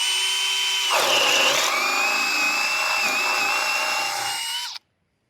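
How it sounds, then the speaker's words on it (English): A cordless drill boring straight down with very light pressure gives a loud, close, continuous high whine. The pitch shifts once early on, and the whine runs about five seconds before cutting off abruptly into silence. "We're going to do it in a different orientation where we're now going to be drilling downward to see if that makes a difference."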